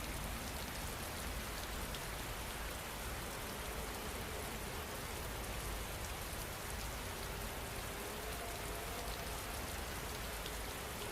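Steady rain falls with a dense, even hiss of drops on surfaces, constant and unbroken throughout with no voices.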